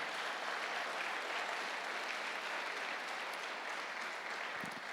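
A church congregation gives a sustained round of applause in praise to God, an even, continuous patter of many hands heard somewhat faint and distant, without a break.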